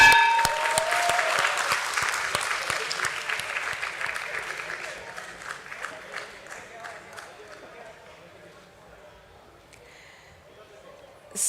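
Applause from an audience at a stock market listing ceremony at BSE: steady, full clapping from a crowd that gradually fades over about eleven seconds, with a faint voice near the end.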